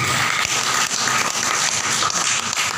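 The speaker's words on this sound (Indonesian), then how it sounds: "Tepuk tangan buat sekali lagi." Audience applause at an Indonesian business seminar, steady dense clapping filling the whole stretch with no pauses, fairly loud and close, with no voices over it.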